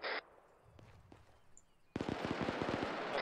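ARMA 3 gunfire at a construction site: a rapid automatic burst of about a dozen sharp shots, loud and fairly close, following quieter faint reports and a brief voice at the start.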